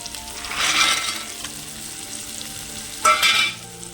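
Vadiyalu (sun-dried lentil fritters) frying in a pan with tomato, a steady sizzle with two louder bursts of stirring and crackling, close and with no voices.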